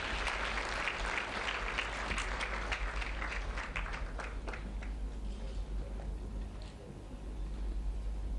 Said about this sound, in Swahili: Tupigie hawa watoto makofi tafadhali.